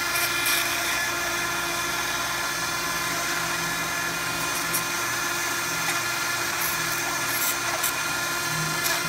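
A plastic welder working a crack in an ABS plastic car dashboard, giving a steady high-pitched whir and hiss that runs continuously with slight wavering, close up and with no talking.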